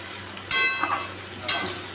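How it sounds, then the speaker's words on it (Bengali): Bottle gourd and potato curry fries in a pan as it is stirred, with two bright bursts of sizzle and scraping about a second apart over a steady low hum. "লাউগুলো দিয়ে দিলাম"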